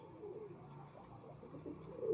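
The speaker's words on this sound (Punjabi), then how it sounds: "ਤੁਹਾਡੇ ਸਾਹਮਣੇ ਕਬੂਤਰ ਫਿਰਦੇ ਆ" Pigeons give soft, low cooing calls in repeated short phrases, faint and fairly close, with no talking over them.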